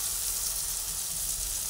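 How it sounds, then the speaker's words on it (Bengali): Onion and garlic sizzling in a pan, a steady close hiss of frying with no pauses. "পেঁয়াজ রসুন সব একটু ভাজা হয়ে গেছে।"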